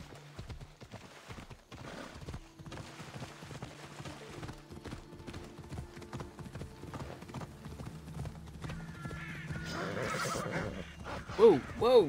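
Horse in Assassin's Creed Odyssey, with steady clip-clop of hooves throughout and a loud neigh near the end, under game music and effects; a voice talks in the clip.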